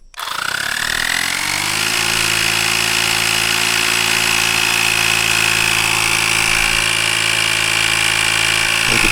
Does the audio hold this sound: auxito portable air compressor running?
yes